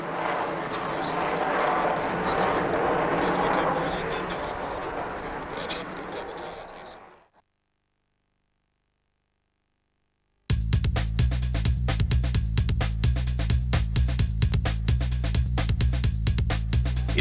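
A large aircraft flying a display at a British airshow roars loudly and steadily for about seven seconds, then fades out. A silent gap follows, and a different, heavily pulsing sound starts abruptly after it.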